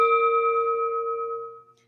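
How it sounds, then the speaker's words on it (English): A single strike on a bell used in an English chanting service, a clear bright ring that sustains evenly and fades away over about a second and a half, heard alone. "after each line, I'm going to hit this bell."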